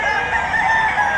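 Roosters and chickens at the Padre Garcia, Batangas livestock auction market fill the air with steady overlapping crowing and clucking, loud and continuous throughout.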